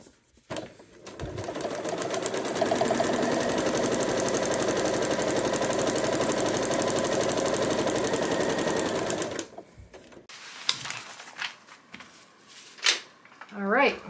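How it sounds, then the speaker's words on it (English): A sewing machine runs a fast, even stitch along the last seam line of a quilt block for about nine seconds, then stops, followed by fabric handling and a few short clicks. "we're going to flip it and we're going to sew that last line"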